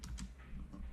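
Fingers tap a few quick keystrokes on a computer keyboard, soft and close, in a quiet room without talking.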